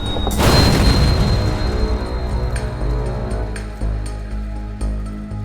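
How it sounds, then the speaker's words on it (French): A Mitsubishi van explodes on a street pavement beside a crowded tourist nightclub: one sudden, massive close blast followed by a long, heavy rumbling roar with scattered debris crashes. "20 secondes plus tard, sur le trottoir d'en face, une camionnette Mitsubishi explose."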